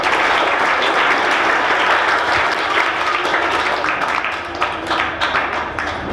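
A crowd applauds at a high school special program, a dense, loud burst of clapping that holds steady and then thins out and softens toward the end.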